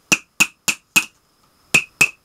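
A toy hammer from a 100-yen shop strikes six times in quick succession, sharp plastic taps with a pause before the last two, close and alone with no voices.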